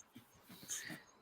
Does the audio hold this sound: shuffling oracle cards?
no